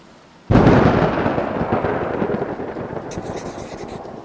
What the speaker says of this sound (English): Before you know it, you're yelling over the thunder.